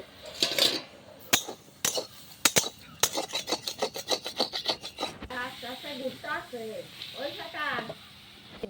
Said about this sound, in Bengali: বেটে নিব এখন রসুন, কালো জিরে আর কাঁচা লঙ্কা।